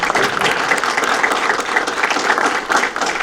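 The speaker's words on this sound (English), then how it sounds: "everybody, volunteer, we get a round of applause" A crowd at a county Democratic Party meeting claps continuously in loud, dense applause that holds steady throughout.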